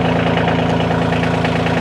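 A Kioti CK2610 compact tractor engine running close by, a loud steady low rumble with a rapid even pulsing throb and no break, with no talking.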